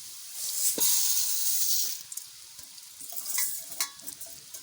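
Rice tipped into a pan of fried onions for biryani, a steady frying hiss that swells early on and then settles into lighter sizzling with a few scraping stirs.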